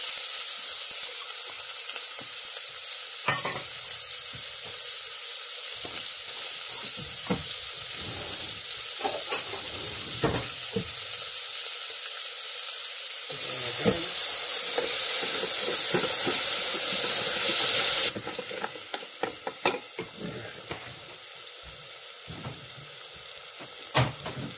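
Chopped onions sauté in a little oil inside an Instant Pot, giving a steady close sizzle with scattered crackles and stirring scrapes, briefly louder and hissier before settling back to a softer sizzle.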